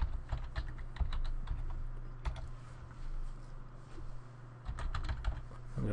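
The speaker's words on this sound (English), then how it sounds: "I'm going to type start in there." Typing on a computer keyboard while removing ransomware: rapid irregular clicks in short bursts with brief pauses, close and fairly quiet over a low steady hum, with no voices.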